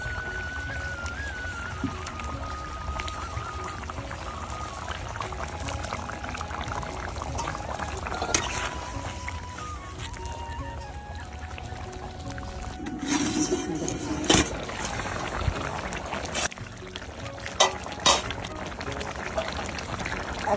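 Water poured into a pan of vegetable curry, sautéed with home-grown cauliflower, for katla fish, a steady pour with sizzling and bubbling in a home kitchen, continuous and fairly close.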